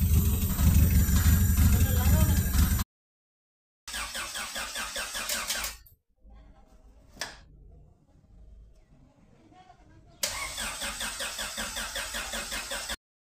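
A Honda Integra DA7 with its B18C VTEC engine cranks and starts, idling at a steady mid-pitched hum between gaps of silence, with a sharp click mid-way and the engine catching again near the end; fairly close and loud.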